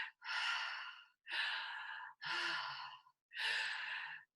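Four long, slow, deliberate breaths during a breathwork session, each a soft airy rush lasting about a second with short silent gaps between, close and quiet.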